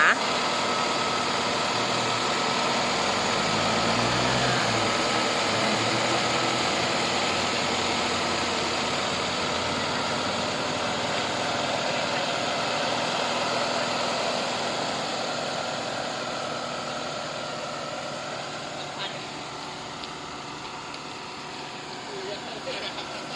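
The engine of a 2002 car idles with a steady low rumble and hum that stays even throughout, fading slightly toward the end.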